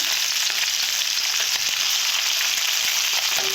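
Small whole puti fish fry in hot oil, giving a dense, steady sizzle with faint crackles that stays loud and even throughout, with no voices.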